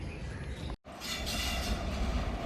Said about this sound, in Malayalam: ആ ലൂപ്പ് പിടിച്ച് കയറി വരുന്ന ട്രെയിൻ നിലമ്പൂർ റോഡ് അല്ല, Kottayam Nilambur road unreserved express ആട്ടോ